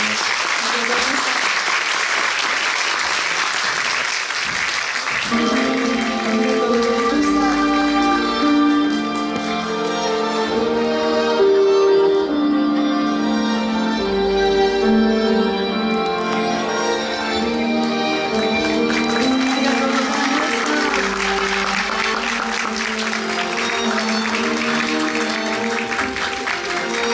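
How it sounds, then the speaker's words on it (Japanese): Sustained audience applause at a Japanese film premiere seeing off two guests, loud and continuous throughout, with music playing underneath. "お二方をどうぞ大きく拍手でお見送りください。"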